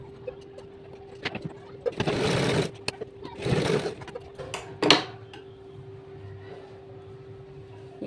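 A sewing machine stitches the seam of loose pants in short bursts, three or four rapid whirring runs separated by pauses, with a steady hum underneath and small clicks between runs.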